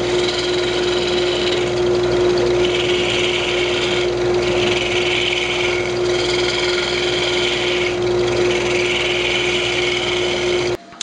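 Wood being cut with a 3/8 bowl gouge on a lathe while turning a lamp, a steady close hum of the spinning lathe with bursts of scraping hiss from the gouge, continuous throughout with no talking.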